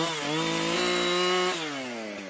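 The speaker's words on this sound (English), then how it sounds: "please let the chainsaw work" A chainsaw in the Alaskan Road Truckers video game cuts through a fallen tree, its engine whining steadily with a pitch shift partway through, loud and close, with no talk over it.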